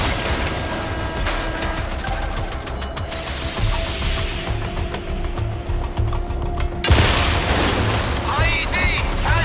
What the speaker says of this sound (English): when that same hostage is blown up by an IED right in front of you